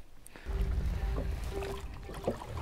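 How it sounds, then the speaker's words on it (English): A fishing boat on a river is paddled between anchor spots, giving a soft low swish of water and faint dips and knocks from a paddle, quiet and close with light wind. "This is what we do instead of having an electronic engine. Just paddle a little bit."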